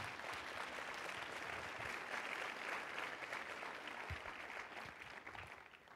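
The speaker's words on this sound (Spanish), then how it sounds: "Aplaudo a Jesús." A church congregation applauds during a worship service, with steady, dense clapping heard from a distance and at low level, holding for several seconds before tapering slightly.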